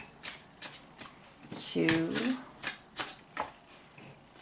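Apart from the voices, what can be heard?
shuffling and drawing oracle cards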